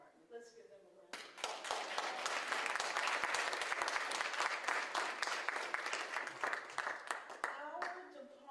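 A crowd applauds the Bowie Police Department at a community meeting, steady dense clapping that starts abruptly after a brief spoken lead-in and holds at full strength for several seconds before tapering slightly, with a voice resuming at the end.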